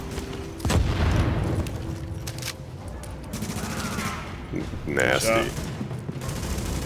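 Gunfire in The Division video game, with bursts of automatic weapon fire and booms over a continuous loud game soundscape, while players talk over it.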